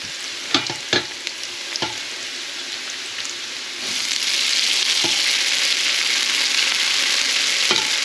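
Glass noodles with shrimp and bok choy sautéed in a pan: a few scrapes and taps of a utensil, then the sizzle swells into a loud, continuous frying hiss that lasts to the end.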